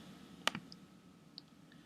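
Sharp right-clicks of a computer mouse, one prominent click followed by a quieter second and a couple of faint later clicks, close and crisp against a quiet room.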